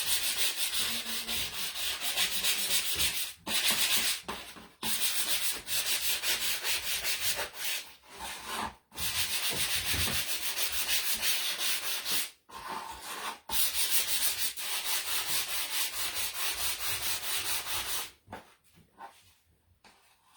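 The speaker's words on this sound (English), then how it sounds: "I'm gonna just do the little sanding here" Sandpaper rubs back and forth across a wooden Christmas stocking in steady, close, raspy strokes, broken by a few brief pauses and slowing near the end.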